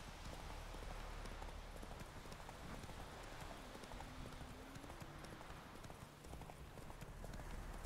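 Roach, a horse in The Witcher 3 video game, walks with steady clip-clop hoofbeats under dense, continuous ambient game noise, with no talk over it.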